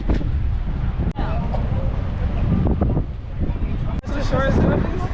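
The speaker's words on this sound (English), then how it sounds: "It's very windy here." Strong wind buffeting a microphone on a sunny day during a Greek Isles cruise stop, a loud continuous roaring rush with brief dropouts, voices blending underneath.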